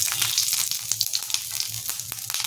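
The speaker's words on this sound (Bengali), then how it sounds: "আমি এই যে দুটো শুকনো লঙ্কা ফোড়ন দিয়ে দিচ্ছি, তেজপাতা" Two dried red chillies and a bay leaf sizzling in hot oil, tempering for cabbage kofta curry: a close, crisp crackle with rapid irregular pops over a steady hiss, no voices.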